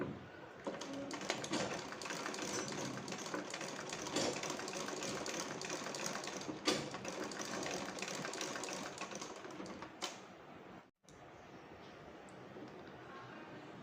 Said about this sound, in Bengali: তো মেক্সিটা সেলাই করছি।